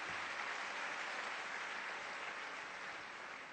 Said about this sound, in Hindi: उनके लिए तालियां।